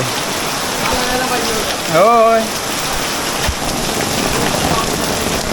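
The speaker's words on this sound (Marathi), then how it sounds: "आज नागपंचमी दिवशी खूपच पाऊस पडायला लागला सकाळपासून पाऊस पडतो आहे" Steady heavy monsoon rain in the Konkan hisses throughout, with someone briefly speaking over it.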